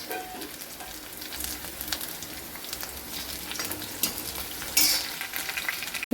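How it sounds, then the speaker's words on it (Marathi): Curry leaves sputter and fry in a pan with sautéed onion for a drumstick pod curry, a continuous close sizzle with occasional stirring clinks and a brief louder crackle near the end, no talking. "आपण याच्यात टाकून घ्यायचा आहे कढीपत्त्याला पण छान असं परतून घ्यायचं."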